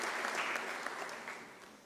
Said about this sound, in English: Can I please request a round of applause for Professor Mahanu and the team?